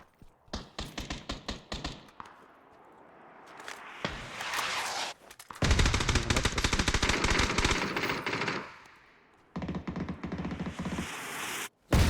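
Bursts of automatic gunfire from the battle royale game PUBG near the Prison area, with rapid rattling volleys, a long sustained stretch of loud firing in the middle and a final sharp blast, no talk over it.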